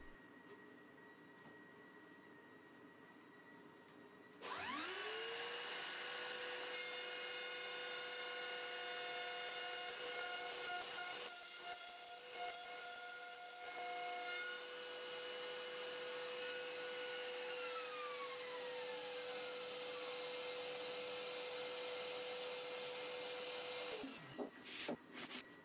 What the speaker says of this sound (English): It's relatively easy to guide the router, because the aluminum angles will slide in the groove on the edge.